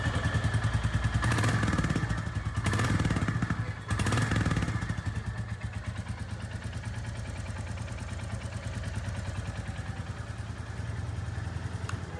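A Royal Enfield Classic 350 Gorkha Edition motorcycle engine, a thumping single-cylinder idle with a steady loud beat, briefly revved a couple of times early on before settling into an even close-up idle.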